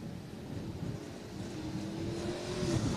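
IMCA Modified race cars drone at a distance around a dirt track, a steady blended engine roar that slowly builds in loudness, with one engine note rising above the rest toward the end.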